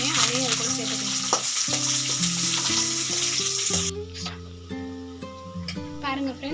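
Garlic, onion and curry leaves sizzle and fry steadily in a hot pan, with a bright hissing layer that cuts off partway, leaving background music and stirring noises.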